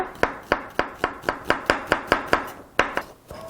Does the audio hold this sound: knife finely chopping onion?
yes